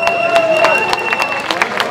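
Rally crowd in Paris clapping and cheering loudly and close, a dense wash of applause with crowd babble and voices over it throughout.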